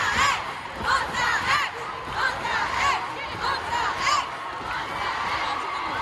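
A concert crowd at a show, on a 2022 US tour, chants the group's name in a darkened arena, the loud rhythmic shouts rising and falling in repeated waves from many voices.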